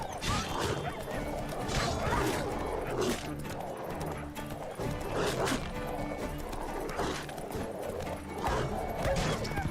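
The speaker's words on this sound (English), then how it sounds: "Wild dogs." Wild dogs bark and yip in The Witcher video game, with repeated barks over clattering horse hooves, impacts and a busy game soundscape, fairly close and loud throughout.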